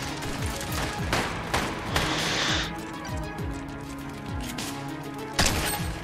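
Fortnite gunfire with heavy recoil, rapid bursts of shots cracking repeatedly over several seconds amid game sounds, with a loud shot near the end.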